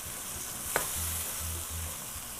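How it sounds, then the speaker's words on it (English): Ground meat fries with taco spice mix in a pan, an even hiss of sizzling fat with a few spatula scrapes and soft knocks as it is stirred, close and without voices. "Keep stirring. Break down the meat to the small pieces."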